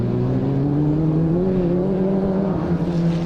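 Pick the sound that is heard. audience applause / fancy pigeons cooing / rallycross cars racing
rallycross cars racing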